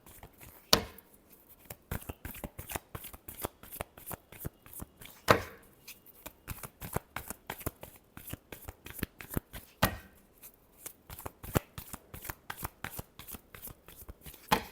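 Tarot cards are shuffled by hand in a close, quiet, rapid series of crisp riffles and slaps with a few sharper taps, continuing steadily throughout.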